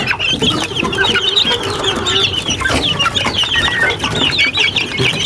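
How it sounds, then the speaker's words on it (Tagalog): Sick young chicks peep in a busy, steady chorus of high chirps mixed with soft clucking, close up and continuous with no voices. "Gutom na yung ating sisiw."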